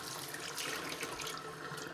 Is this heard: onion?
no